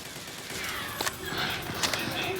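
Gunfire in the zombie shooter game Dead Trigger: several sharp shots and bursts crack out at moderate level over a busy, noisy game background, with a voice talking at points.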